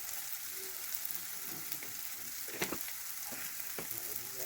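Spiced egg chop mixture, seasoned with cumin and coriander powder, frying in a pan: a steady soft sizzle throughout, broken by a few sharper pops and scrapes near the close.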